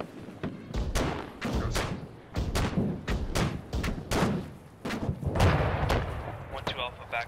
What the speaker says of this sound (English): Where's that RPG fire coming from?